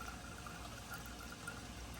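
A cup of water is poured into a pan with cabbage and apple, making a faint, even rushing wash of liquid that carries on for the whole stretch.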